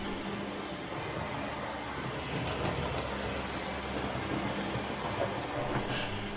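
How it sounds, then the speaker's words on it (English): Hornby and DJM Class 71 model locomotives running at full speed side by side on a model railway layout, giving a steady close whirring rumble with constant motor hum and no gaps. "The DJ loco is now at full speed on the controller, running on the inner track, and the Hornby model is matching it"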